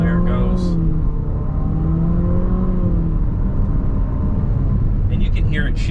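A 2020 Infiniti QX50 Edition 30 with a continuously variable transmission pulls under throttle, its engine drone loud and close and climbing steadily in pitch, with brief higher noises at the start and end.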